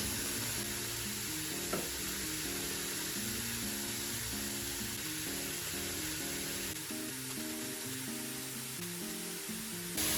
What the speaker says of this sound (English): So the veggies have been sauteing for about like 5 minutes